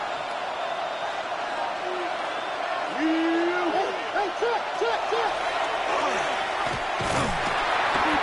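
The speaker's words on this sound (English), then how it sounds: "This crowd into it now as we get to third down." Stadium crowd roaring on third down at a Kansas City Chiefs at Las Vegas Raiders NFL game, a loud continuous wash of noise with whistles and cheers, under a commentator's talk.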